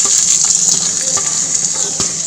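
Chopped onion frying in hot oil with mustard seeds, a loud, continuous close-up sizzle with light crackles and a few soft stirring clicks.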